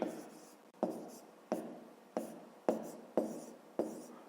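Pen writing by hand in a school math exercise book, seven short scratchy strokes in a steady rhythm, close and quiet.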